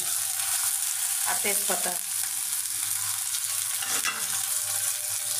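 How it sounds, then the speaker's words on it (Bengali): Onion, green chilli, cardamom, cinnamon and bay leaf frying in oil, a steady loud sizzle throughout with a couple of brief stirring scrapes, while someone speaks briefly over it. "পেঁয়াজ, কাঁচামরিচ, এলাচ, দারচিনি ভেজে নিলাম"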